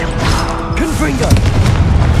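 A Confringo blast spell fired in Hogwarts Legacy, producing deep booming bursts amid continuous combat noise, with a voice talking over it.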